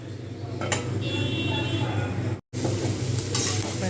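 Cauliflower and potato pieces frying in a pan while being stirred, a continuous sizzle with scraping and clinking utensil sounds, close and fairly loud, briefly cut out for a moment.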